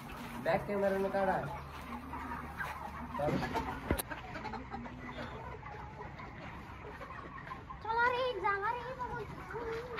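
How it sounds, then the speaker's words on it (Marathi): Broiler chickens in a 5000-bird poultry shed cluck and squawk in a crowded flock, with a few louder calls standing out over a steady murmur of birds and faint voices in the background. "5000 पक्षाची पोल्ट्री बघू शकता तुम्ही।"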